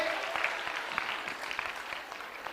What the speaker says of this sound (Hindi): तालियां जोरों से याशिका के लिए